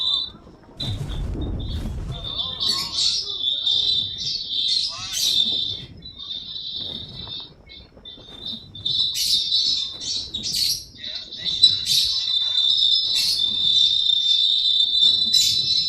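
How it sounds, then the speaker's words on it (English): A pet bird chirps and squawks repeatedly indoors, shrill bursts coming in uneven runs close by, with some low background noise underneath. "all you can hear is the bird"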